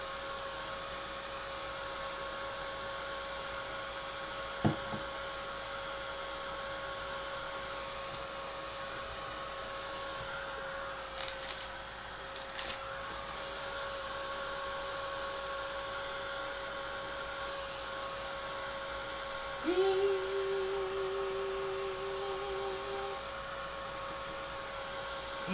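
A heat tool blows with a continuous, even whoosh and hum, drying thick paint spread on a journal page with a gift card; it runs steadily throughout, with a few faint clicks and a brief rising tone late on.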